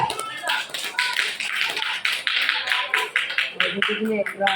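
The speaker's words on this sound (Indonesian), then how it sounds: "Tepuk tangan untuk kelompok A." A group of people at a school quiz competition final claps for a team in a rhythmic, pulsing round of applause close by, with voices talking over the clapping.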